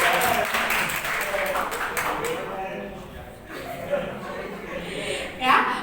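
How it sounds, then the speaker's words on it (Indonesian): Students in a classroom clap for their classmates in a short burst of scattered applause that fades as voices carry on talking over it. "Tepuk tangan buat mereka semua."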